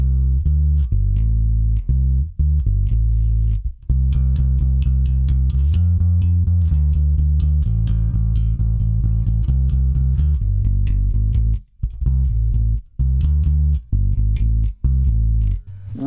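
Squier CV Telecaster bass guitar with the low EQ turned down to zero, played as a steady run of plucked notes with brief pauses, loud and up close with no talk.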